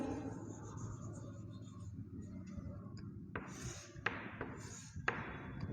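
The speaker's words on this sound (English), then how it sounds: "Now we will write here." Chalk or marker writing on a classroom board, with soft scratchy strokes and a few sharper taps toward the end, faint against room noise.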